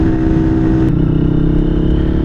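A Lifan KPR 200 motorcycle is ridden, its engine droning loud and steady with a low rumble throughout.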